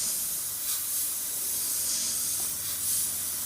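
Spray gun spraying thinned-down paint, a steady, fairly quiet airy hiss held evenly throughout with slight swells in intensity.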